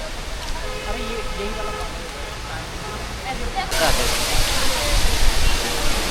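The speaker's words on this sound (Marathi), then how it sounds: "तो धबधबा बघ कसा वाहतोय" Malshej waterfall roars steadily, growing louder and fuller partway through, with people talking faintly underneath.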